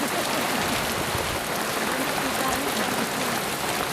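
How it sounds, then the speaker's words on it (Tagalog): Steady, dense hiss of heavy rain pouring down, constant and loud with no pauses. "grabe ang ulan"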